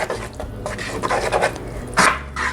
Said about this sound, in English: let's stir all of this together